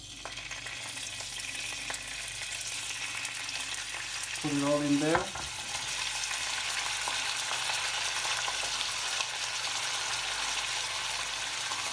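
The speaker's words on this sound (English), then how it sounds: "so now the oil is hot enough, so I'm going to start frying the meat" Meat frying in hot oil gives a steady, close sizzle throughout, broken near the middle by a brief clatter as more pieces go in, with a short spoken remark.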